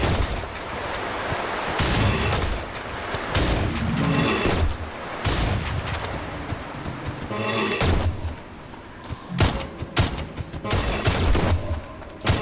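Repeated heavy gun blasts with booming reports ring out in a video game, arriving in clustered bursts with short pauses between volleys, loud and close throughout.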